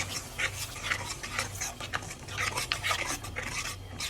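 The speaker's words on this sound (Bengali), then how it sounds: "এখন আমি মশলাগুলো ভালোভাবে কষিয়ে নিব।" A spoon works chili powder and ginger-garlic paste around a pan for a hilsa fish curry, giving repeated soft scrapes and rustling strokes at a steady rhythm, with a faint low hum beneath.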